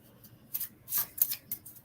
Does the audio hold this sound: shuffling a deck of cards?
yes